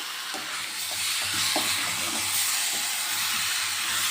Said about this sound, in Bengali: ভালো করে মশলাটা আমি আগে কষিয়ে নিই